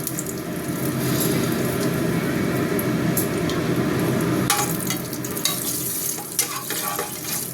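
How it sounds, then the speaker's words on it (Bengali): Bay leaves and dried red chillies crackle loudly in hot oil for mutton curry, a dense, close sizzle that turns sharper and more spattery partway through. "তেল গরম হয়ে গেছে বন্ধুরা তেজপাতা আর শুকনো লঙ্কা দিয়ে দিলাম"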